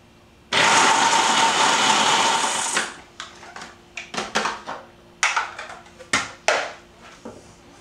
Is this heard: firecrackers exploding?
no